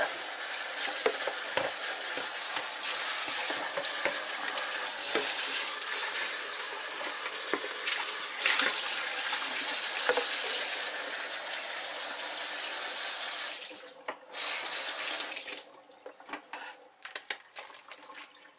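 Cold running water from a kitchen tap pours steadily into a sink while preparing a turkey, a continuous hissing gush that changes near the end to splashing and trickles.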